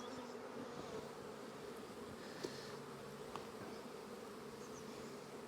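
Honey bees buzz steadily in a dense, continuous drone over an open hive during a heavy nectar flow, with a few brief clicks and knocks from handling the frames.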